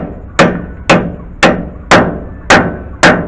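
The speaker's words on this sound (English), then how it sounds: "you could also feel it when you start hitting it with your hammer" A hammer drives a rear wheel bearing oil seal on a 2WD Chevy Silverado or GMC Sierra, six loud sharp metallic strikes at an even, steady pace, close up with no talking.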